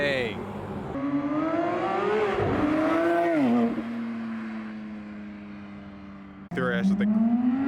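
Ford GT sports car engine revving and droning nearby, a loud sustained roar that climbs and falls in pitch, then surges again after a brief break, with voices reacting in excitement over it.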